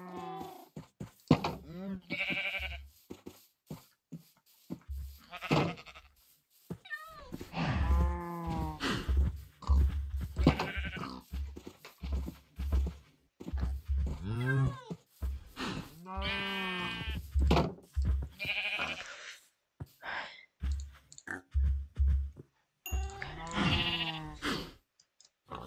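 Sheep in a farming video game bleat repeatedly in drawn-out, wavering cries, with other livestock calls mixed in, while a player talks between them.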